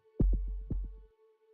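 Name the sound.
heartbeat from the video game Arknights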